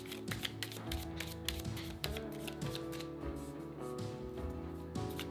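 Tarot cards are shuffled by hand in a rapid run of riffles and soft slaps, close and fairly loud with no talking.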